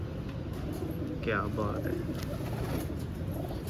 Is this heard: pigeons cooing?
yes